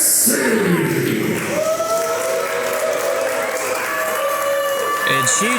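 Wrestling crowd at a Warriors of Wrestling women's championship match cheering and clapping loudly throughout, a dense steady roar with whistles and shouting voices mixed in.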